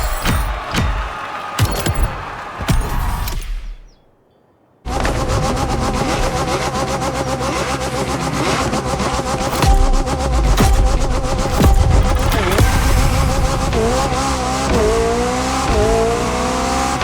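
Triumph car racing in a video game: a loud, steady engine drone with shifting revs and tire noise runs almost continuously, broken by a brief near-silent gap early on before the racing sound resumes at full strength.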